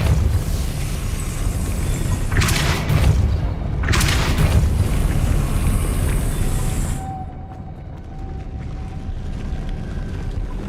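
A Depulso force spell is cast in Hogwarts Legacy on PS5, with two sharp whooshing bursts around two and four seconds over a steady rumbling game backdrop that drops quieter near the end.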